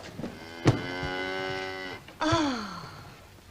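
A single cow moos long and loud near at hand on a farm, a sustained harmonic low, followed by a second shorter moo that slides downward; a brief thump comes before the first call.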